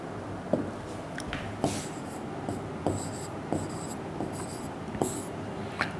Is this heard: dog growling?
no